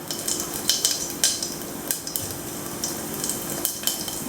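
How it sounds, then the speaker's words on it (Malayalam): Cumin seeds crackling in hot mustard oil in a pan, a steady fine sizzle broken by sharp clinks of a spoon against metal, with no voices. "അപ്പോൾ എണ്ണ നന്നായിട്ട് ചൂടായിട്ടുണ്ട്. ഇതിലേക്ക് ഞാൻ ഒരു 2 നുള്ള ജീരകം ഇട്ട് കൊടുക്കുകയാണ്."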